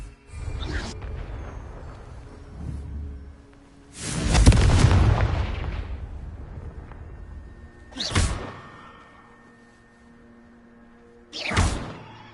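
Confringo blasting spells in Hogwarts Legacy go off as four separate explosions, each a sharp whooshing burst followed by a boom, with the second one the loudest and longest and quieter gaps between them.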